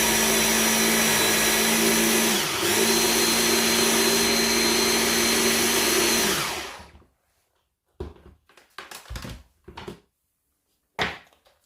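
A blender blitzes vegetables for homemade stock cubes with a loud, steady whir for about seven seconds. It briefly dips near the start, then cuts off and is followed by a few clunks and knocks.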